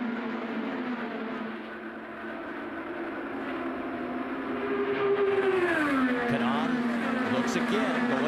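IndyCar race cars howl around the track in the closing laps of the 2013 Indianapolis 500. A loud sustained engine whine shifts pitch as several cars pass close together, and a commentator talks over it.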